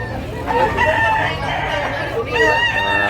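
A gamecock crows loudly and close at a busy rooster market in Tabunok, Talisay, Cebu, with drawn-out harmonic calls and clucking amid crowd noise and nearby voices.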